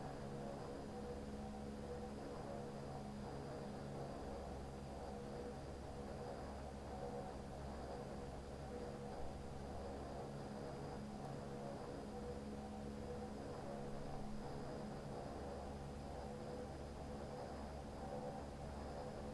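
Antonov An-24B propeller airliner taxiing in the FlightGear flight simulator, a steady low engine drone with faint whirring tones, continuous and moderately quiet throughout with no talk.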